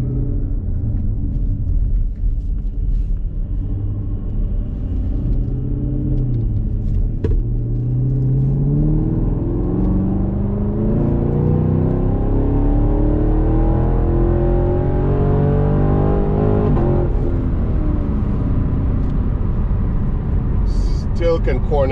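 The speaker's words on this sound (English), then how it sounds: "Another rev with the windows up, so you can hear everything from the inside" A Chevrolet Camaro SS engine revs as heard from inside the cabin with the windows up, a muffled, deep rumble climbing and falling in pitch through the middle of the clip over a steady low drone.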